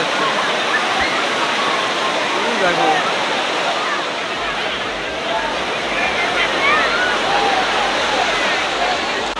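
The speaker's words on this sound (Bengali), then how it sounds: "ঢেউয়ের যে আওয়াজগুলো না খুব মানে খতরনাক লেভেলের একটা আওয়াজ হচ্ছে" Sea waves crashing at Puri beach, a loud continuous roar of surf with churning water filling the scene, a low rumble underneath and faint crowd babble in the background.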